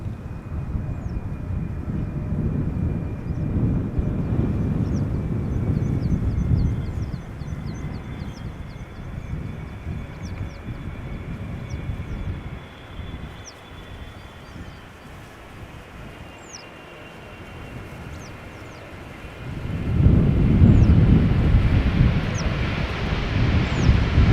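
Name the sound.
KLM aircraft PH-BVP landing at Schiphol from Curaçao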